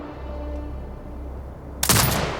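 Turret gunfire in the video game Sniper Ghost Warrior Contracts 2, a sudden loud burst near the end that cuts through a quiet low ambient hum.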